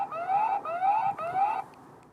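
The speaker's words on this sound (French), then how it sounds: "il a émis une alarme quand nous l'avons soulevé durant plus de quelques secondes" A Dreame A1 Pro robot lawn mower's anti-theft alarm sounds after being lifted: three rising, siren-like electronic whoops in quick succession, fairly close and clear, then cut off.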